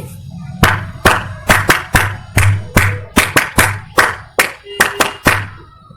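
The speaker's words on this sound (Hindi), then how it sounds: "तीन बार ताली बजाएंगे।" Hands clapping, a string of about fifteen sharp claps in an uneven rhythm, likely several people clapping slightly out of sync, close and loud over a faint low hum.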